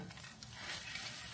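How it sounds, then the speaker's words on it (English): An egg frying in a pan gives a steady, close crackling sizzle with fine spitting pops throughout, fairly quiet and with no voices. "So while my egg is frying"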